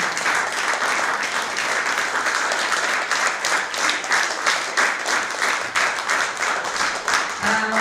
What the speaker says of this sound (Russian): Давайте аплодисментами также ее поприветствуем